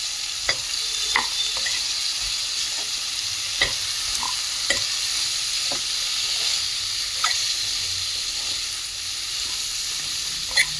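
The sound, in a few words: stirring papdi vegetable curry frying in a pan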